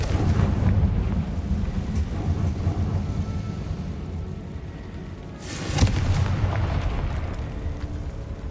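A Confringo spell explodes in the Hogwarts Legacy video game as a loud, rumbling boom over a sustained roaring background, with a sharper burst swelling partway through.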